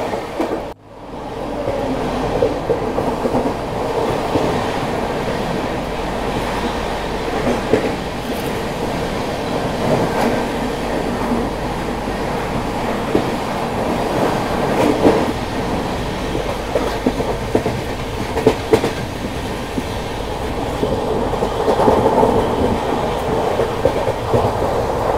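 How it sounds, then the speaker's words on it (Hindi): August Kranti Rajdhani Express rushing through Dadar station without stopping: a loud, continuous roar of rolling wagons with rhythmic wheel clatter and occasional squeals, close by and sustained throughout. "आप लोग इन्जॉय कीजिए अगस्त क्रांति एक्सप्रेस के दादर स्टेशन को बिना रुके पार करने को"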